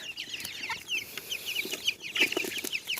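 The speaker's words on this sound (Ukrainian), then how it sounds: "піймала маленького півника" Young rooster clucking in a farmyard, a rapid run of short, bright clucks scattered across the moment, close and fairly loud over faint background chatter of other chickens.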